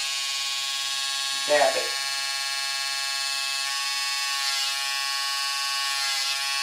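An electric trimmer buzzes steadily while trimming eyebrows, its constant hum running throughout, and a person speaks briefly over it early on.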